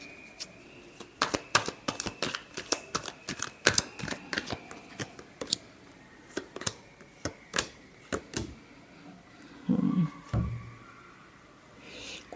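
Tarot cards are shuffled close up in a quick series of sharp, crisp slaps and flicks, irregular bursts with short pauses, ending in a few softer rustles; no talking.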